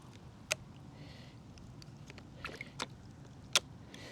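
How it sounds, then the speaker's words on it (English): A climbing carabiner submerged in rinse water and worked open and shut, giving a few faint, sharp metallic clicks and light splashes over a quiet watery background. "Just submerge it, open it and close it."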